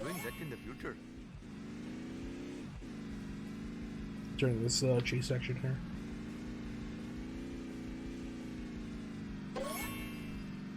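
Garbage truck driving in The Simpsons Hit and Run, a steady low engine drone with brief revs and crash-like clatters over it, while someone talks throughout.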